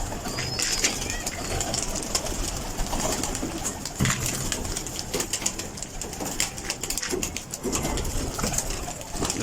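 Pigeons in a loft coo steadily while wings flutter and flap in irregular bursts, close by, as the birds are stirred to exercise during summer.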